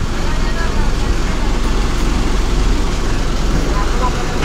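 Inside a moving bus on a road, a steady, loud rumble of engine and road noise fills the whole stretch without a break.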